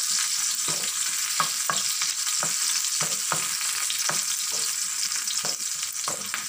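Dried prawns fry in a pan with a soft, constant sizzle, punctuated by regular scraping strokes of a spatula stirring them; no voices are heard.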